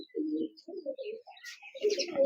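Teddy pigeons coo softly in a series of low, throaty murmurs close by, with a few higher chirps mixed in toward the end.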